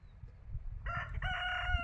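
A rooster crows loudly and close by, a single drawn-out cock-a-doodle-doo rising over a low rumble of background noise.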